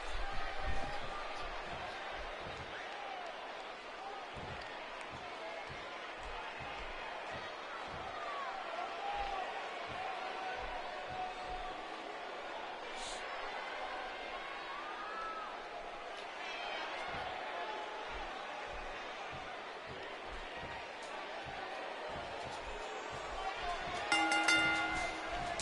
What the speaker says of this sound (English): I don't think I've heard a Toronto crowd this loud since we were in the Dome for WrestleMania 18